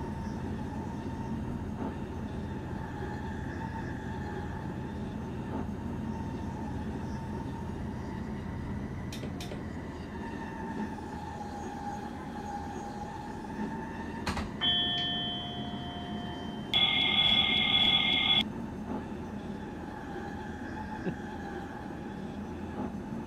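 A stopping passenger train bound for Zutphen rumbles steadily from inside the carriage, with a low hum, faint squeals and a few bright chime-like alert tones near the end.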